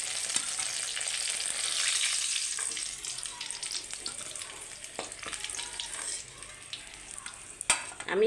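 Onions fry and are stirred in a pan, a close, steady hiss of oil with scraping utensil strokes and a few clinks of metal toward the end, no voices.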